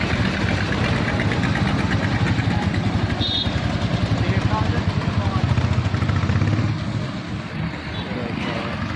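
A Royal Enfield Classic motorcycle idles close by with a loud, steady thumping single-cylinder beat, easing off slightly near the end, with a voice talking over it.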